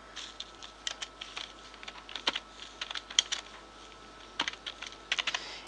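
Bursts of keystrokes on a computer keyboard while typing in MS Word, clicking in uneven clusters with short pauses between words, fairly close and quiet with no one speaking.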